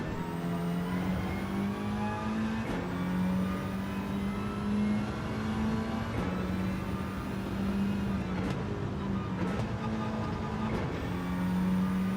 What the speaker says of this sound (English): The WRX just absolutely ripped that centre section.